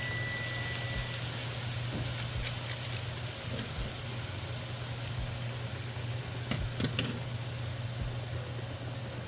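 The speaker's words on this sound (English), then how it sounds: "We're going to mix it and bring it to a simmer." Low, steady sizzle and bubbling of pork simmering in barbecue sauce and water in a pan, with a constant background hum and a few scraping clinks from stirring.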